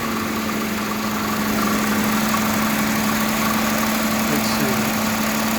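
A steady engine runs while driving a 48RE transmission on a dyno during a trans brake test, holding an even, loud drone with a constant hum and no clear revs; a voice speaks briefly.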